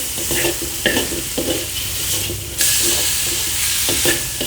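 Bacon and ham sizzle as they are stir-fried in a dry pan with no oil added, a loud, steady frying hiss broken by the regular scrape and clatter of a spatula stirring.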